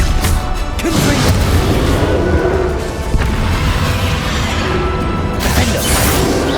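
A Confringo fire blast spell in Hogwarts Legacy, cast amid a game battle: booming, whooshing bursts over a dense, loud rumble of combat effects, with crashes at the start and around the five-second mark.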